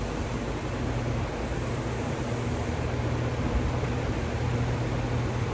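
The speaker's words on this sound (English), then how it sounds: "Sorry I have to have fans on" Electric fans running for ventilation give a steady, broadband hum and whoosh with a low droning undertone that stays even and continuous throughout.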